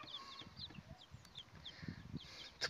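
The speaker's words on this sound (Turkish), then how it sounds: "Bu Hint tavuğu civcivimiz." Turkey chicks peep in short, high chirps scattered across a faint farmyard background, with soft clucking-like low sounds mixed in.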